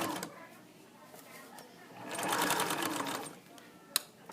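A sewing machine whirs in short bursts, speeding up into a steady stitching run in the middle, with a faint click near the end.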